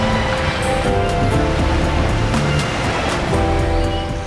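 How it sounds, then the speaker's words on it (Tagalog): Loud ocean surf breaks and washes continuously onto a long white sandbar beach in Tawi-Tawi, a full roaring wash with no voices. "Ang musika ng mga hampas ng alon."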